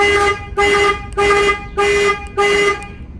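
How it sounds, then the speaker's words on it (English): A car alarm set off with the remote's panic button blares loud, evenly spaced horn honks, five in a row with brief gaps between them, close and with no voices. "Panic button. If you hold this down, you can fire the alarm."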